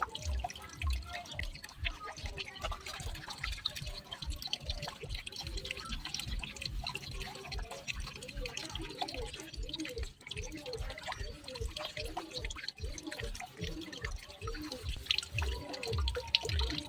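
Oily plates that had soaked a long time in water are scrubbed and rinsed under running water at a kitchen sink, giving a steady stream of splashing, dripping water with soft clinks throughout.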